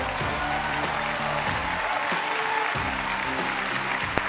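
An audience claps loudly and continuously for a young participant at a show, a dense wash of applause with music playing underneath.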